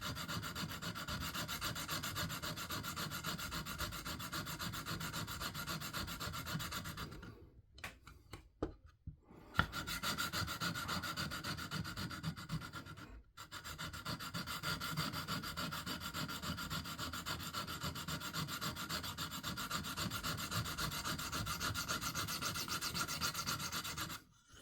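A hawkbill knife blade is drawn over a stone on a KME sharpener in steady, continuous rasping strokes, close and alone, with two brief pauses partway through.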